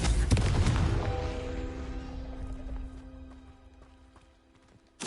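A Confringo fire-blast spell from Hogwarts Legacy goes off with a heavy boom that rings out and slowly fades, and a second sharp hit comes at the very end.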